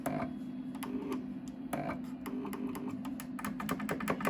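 A US Cutter vinyl cutting machine cuts vinyl, giving a steady mechanical hum under rapid, irregular ticking clicks that sound nearby and continue throughout.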